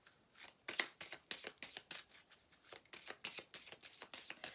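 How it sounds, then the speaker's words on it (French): Tarot cards are shuffled in a quick, crisp riffle of soft flicks and slaps, close and fairly quiet, with no talk over it. "Alors, on va prendre d'autres cartes ici."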